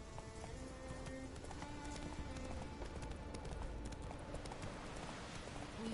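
Roach the horse gallops in The Witcher 3, with rapid, rhythmic hoofbeats that clip-clop continuously and quite faintly beneath a busy game soundscape.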